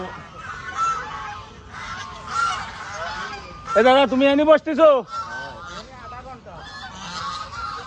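Several geese honk loudly nearby in bursts, their calls overlapping with people talking.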